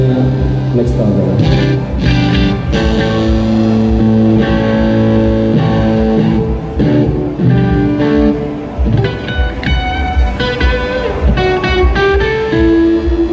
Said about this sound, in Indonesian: Ini suara dari mikingnya Black Star ya.